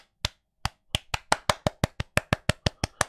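Bare feet slapping on a hard floor as a person walks, a steady series of about a dozen sharp, loud smacks that quicken slightly, each one close and distinct with brief silences between.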